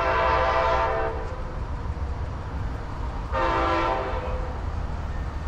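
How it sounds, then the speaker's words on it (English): An Amtrak train locomotive passing with two long, loud horn blasts over a steady rumble of rolling wheels on the rails. "Another beautiful locomotive."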